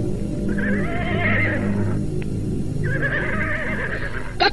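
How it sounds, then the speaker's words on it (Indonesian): A horse gives two drawn-out whinnies with a short pause between them over a steady low background, close and fairly loud, with a brief clatter at the very end. "Ayo ambil kuda."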